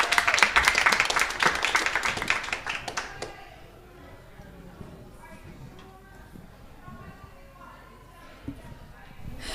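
Audience applause at a networking event rings out for a few seconds, then fades away, leaving a quiet room with faint background sounds.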